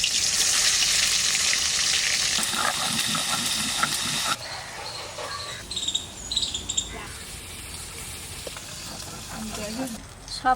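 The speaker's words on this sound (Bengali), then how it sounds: "মাছটা হালকা ভেজে নিচ্ছি।" Sea chanda fish fry lightly in hot oil, a close, fizzing hiss that is loudest at first and then drops to a quieter crackle with scattered pops and spatters.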